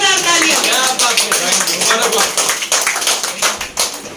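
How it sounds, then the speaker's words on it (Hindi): An audience at an award ceremony claps for a few seconds, a burst of applause that thins out toward the end. "जोरदार तालियां"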